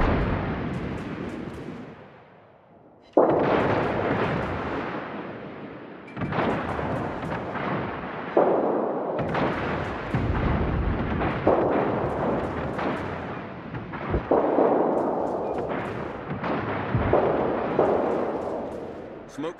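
Destroyer guns firing in a naval battle video game, a series of heavy booming salvos with rumbling decay, each burst cutting in sharply after a brief quiet gap, with a radio-style voice between shots.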